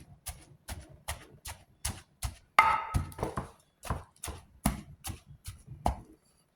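Mackerel chili paste being pounded in a mortar for a Thai fish dip, a steady series of firm thuds repeating roughly twice a second, close and alone with no talk.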